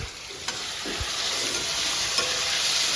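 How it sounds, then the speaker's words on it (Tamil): Steady sizzling of tomatoes sautéing in a hot pan for paneer pepper fry, with a few soft stirring scrapes, close and continuous. "இப்போ இதில் வந்து தக்காளி போட்டுடலாம்"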